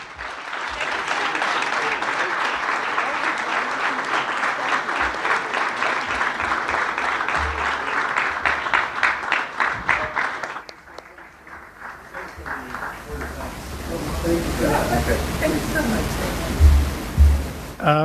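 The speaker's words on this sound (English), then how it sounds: "a big round of applause for Mark Carney, the Prime Minister of Canada" A conference audience at a Canada–India forum in Mumbai applauds the Prime Minister with dense, sustained clapping that thins out after about ten seconds, followed by a quieter stretch with some talk and rustling.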